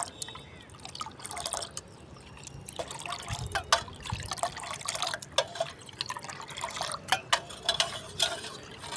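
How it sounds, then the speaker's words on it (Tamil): Water being poured and stirred into a mix of sour buttermilk and asafoetida powder, with irregular drips, trickles and splashes, close and fairly clear, plus a few low thumps. "இப்போ இதை தண்ணியில் கலக்கிறோம்."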